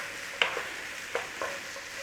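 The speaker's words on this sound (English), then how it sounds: "Little sizzle whizzle on there." Garlic and onions in olive oil in a pan, heard as quiet sizzling with a few sharp stirring scrapes and clicks spread over two seconds, with no talking.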